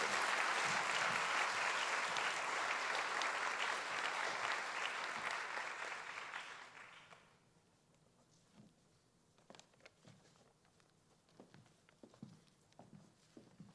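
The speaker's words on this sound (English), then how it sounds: "Let's have a welcoming round of applause for Ken Newman, class of 1967." Audience applause at a Queens College academic excellence award ceremony welcomes a speaker, a sustained loud ovation for about seven seconds that then fades, leaving scattered claps and room noise.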